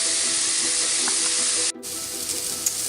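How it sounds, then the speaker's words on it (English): Leeks caramelizing in a hot pan give a loud, steady close sizzle that drops out for an instant before resuming. "now we have our leeks in the pan and we're caramelizing them"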